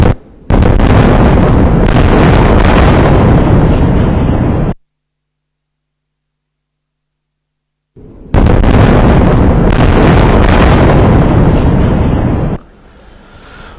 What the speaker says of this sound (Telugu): పేలుడు సందర్భంలో ఎంత భయంకరమైనటువంటి శబ్దం వచ్చిందో.